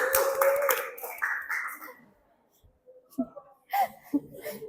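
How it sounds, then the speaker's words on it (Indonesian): A class of students clapping for their classmates, a short burst of quick claps at the start mixed with children's voices and chatter, then quieter talk and scattered sounds. "Tepuk tangan buat teman kalian."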